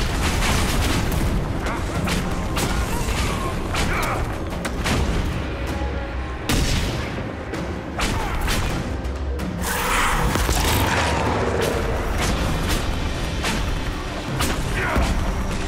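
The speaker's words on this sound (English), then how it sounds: "Taking some heavy fire." A heavy battle plays out in Dragon Age Inquisition with a near-constant barrage of booming blasts, thuds and impacts, loud and dense throughout with few breaks, and voices occasionally cutting through.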